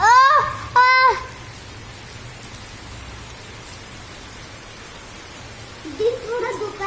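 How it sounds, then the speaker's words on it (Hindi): Steady rain hisses outside throughout, an even wash of falling drops, with brief voices speaking at the start and near the end. "हम लोग बाहर बैठ के बाहर का बारिश का मजे ले रहे हैं"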